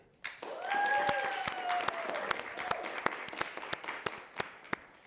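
Studio audience at a live college late-night holiday show bursts into sustained applause with scattered sharp claps and some crowd voices, starting abruptly and slowly thinning out.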